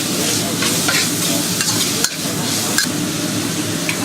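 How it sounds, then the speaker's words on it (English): Minced pork with chopped garlic and ginger stir-fried in a wok over medium heat, a steady dense sizzle with scraping stir strokes throughout, no talking. "preheat a pan or a wok at medium heat. Then add a teaspoon of chopped garlic and 1/2 teaspoon of chopped ginger."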